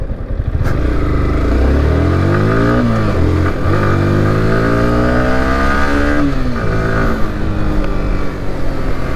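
A new motorcycle engine revs loudly and close by, its pitch rising and falling through a couple of throttle blips over a steady idle, with no voices.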